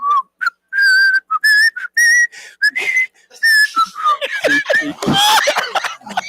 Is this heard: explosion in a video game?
no